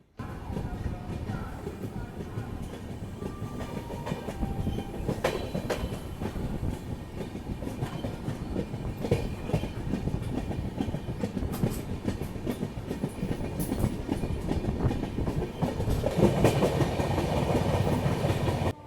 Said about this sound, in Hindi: मानिकपुर से निकलते ही अपनी क्रॉसिंग हो रही है अयोध्या एलटीटी सुपरफास्ट एक्सप्रेस से